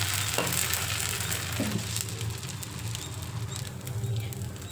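A dosa fries in oil on a hot pan, giving a steady close sizzle with light crackling and a couple of faint scrapes.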